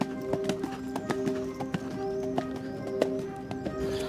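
Horse hooves clip-clop in a steady, even rhythm at close range, with crisp regular strikes over faint background noise.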